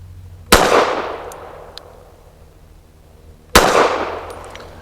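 Two sharp pistol gunshots fired from a BRG9 Elite Gen 2 with Ammo Inc. Stealth 165 grain suppressor loads, each crack loud and close, trailing into a decaying echo about three seconds apart.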